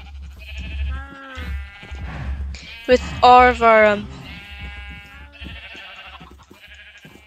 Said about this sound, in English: sheep that we need to shear.